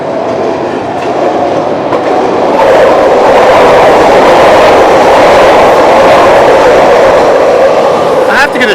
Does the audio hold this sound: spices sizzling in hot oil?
no